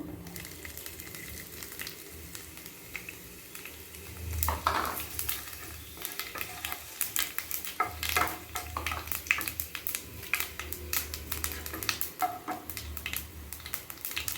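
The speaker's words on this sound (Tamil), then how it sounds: "சோம்பு நல்லா பொரிஞ்சிட்டு" Cinnamon stick and fennel seeds frying in hot oil in a pan for a mushroom capsicum gravy, giving a steady low sizzle with scattered clinks of a spoon against the pan.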